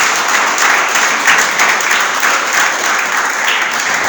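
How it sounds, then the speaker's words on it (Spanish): A church congregation applauds the Lord during a Spanish-language sermon, producing a dense, even wash of clapping that stays loud and steady from start to finish. "Denle un aplauso al Señor."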